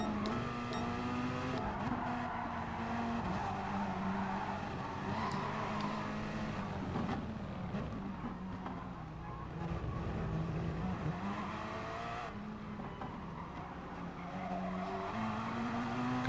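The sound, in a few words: race car understeering off track, tyres skidding, Gran Turismo Sport video game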